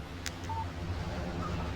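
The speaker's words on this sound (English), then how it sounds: "Text message from Barry." Brief electronic notification chime from a phone receiving a text message in the video game Alan Wake Remastered, a short tonal blip over a steady low game ambience.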